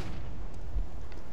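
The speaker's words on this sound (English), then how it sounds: "flashbang." Flashbang grenade detonating in the video game CS:GO, a muffled low boom with a rumbling tail, heard alone without voices.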